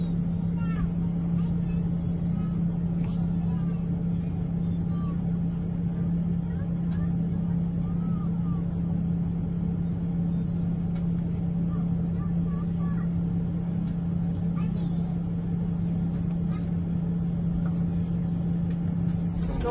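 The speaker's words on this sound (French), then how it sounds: "il y a une voiture qui est arrivée" A car arriving at a dirt-road surf spot at Scorpion Bay in Baja California, its engine a steady low drone running continuously under people talking nearby.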